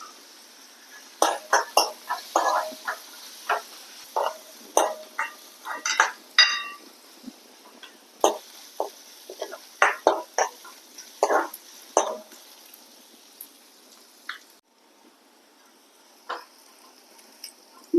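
Curry leaves and dried red chillies dropped into hot oil in a pan, giving sharp scattered crackles and pops in irregular bursts that thin out toward the end, close and clear.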